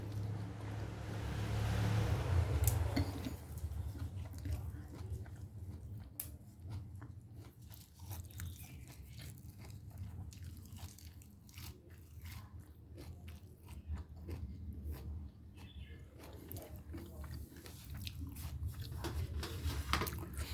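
Crisp bites and chewing of taro-filled Chinese chive dumplings with thin skins, close to the microphone, with a louder burst early on and then repeated soft crunching and mouth sounds, no talking.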